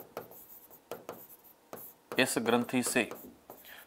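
Chalk or marker writing on a board during a lecture about the thyroid gland and hormones, a few short scratchy strokes in bursts before a voice starts talking over the last part.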